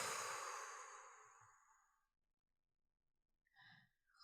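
A strong exhale during a sophrology breathing exercise, a long breathy rush of air that fades out over about two seconds, followed by quiet and then a brief soft sound.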